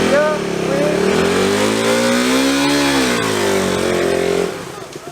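A motorcycle engine revs up and holds high while the bike is held on the front brake for a launch, then drops off abruptly; loud and close, with a voice speaking over it.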